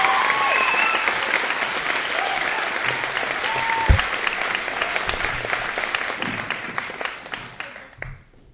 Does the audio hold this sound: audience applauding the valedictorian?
yes